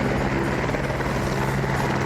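A helicopter at snowy Kedarnath throbs loud and close, its rotor and engine roar filling the air continuously without a break.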